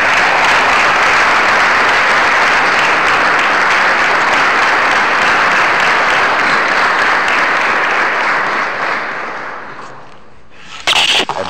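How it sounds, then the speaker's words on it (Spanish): An audience at a political training course gives sustained, dense applause that fills the room loudly for about ten seconds before thinning out and fading, with a brief clatter at the end. "les pido que recibamos con un caluroso aplauso al profesor Lincoln Maestegui."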